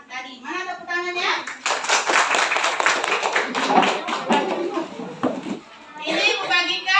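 Children in a madrasah ibtidaiyah classroom clap together in a brisk, loud burst lasting several seconds, with a child's and teacher's voices talking before and after.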